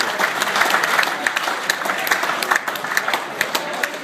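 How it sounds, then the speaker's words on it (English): Audience applause at a rugby league club's 100th anniversary dinner after an auction sale, dense sustained clapping from a crowd, loud and continuous with crisp individual claps standing out. "please, a round of applause"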